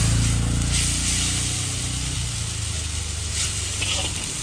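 Chowmein frying on a street food stall, a steady loud hiss and sizzle across the whole stretch, with faint street noise underneath.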